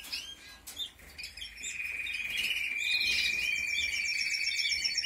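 Caged songbirds singing close by, with a sustained high trilling song that grows fuller and more continuous over several seconds after a few short chirps, with no talking.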